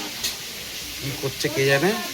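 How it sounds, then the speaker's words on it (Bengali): Potatoes fry in a pan in a village home kitchen, giving a steady close sizzle with occasional stirring while people talk over it. "আলু ভাজা চলছে।"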